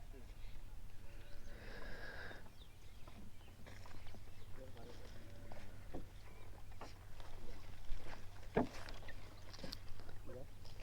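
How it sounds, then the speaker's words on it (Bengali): People talk while boarding a wooden boat to cross the Kopotakkho river, with scattered knocks, creaks and splashy clatter from the hull under their voices. "এখন হচ্ছে নৌকায় উঠতেছি।"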